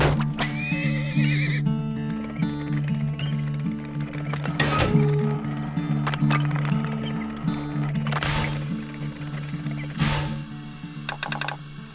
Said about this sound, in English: We're gonna buy another horse, which brings us to a total of 4 horses.